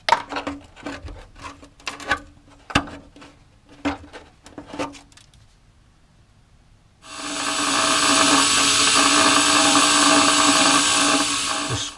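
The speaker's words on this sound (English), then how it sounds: "managed to grind back that wheel arch section there" Loose taps and clunks on a rusty wheel arch of a 1970 VW camper bus, then a loud, steady grinder bites into the rear wheel well metal and runs nonstop to the end, close up with no talking.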